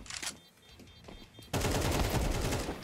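Counter-Strike 2 gunfire rattles in quick bursts, a few sharp shots followed by a dense, loud stretch of rapid automatic fire.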